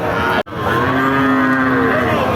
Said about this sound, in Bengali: এদিকে একটা একটু বড় সাইজের ক্রস জাতের গরু